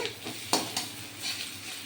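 Onion frying with grated coconut sizzles quietly in a pan as a spoon scrapes through it in a few distinct stirring strokes.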